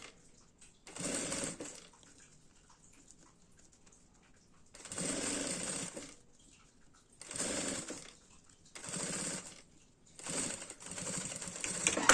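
A sewing machine stitches the lining of a nécessaire box pouch in four separate runs of whirring, each lasting roughly a second and a half, with quiet pauses between them. The machine sounds close and fairly clear, and no one talks over it.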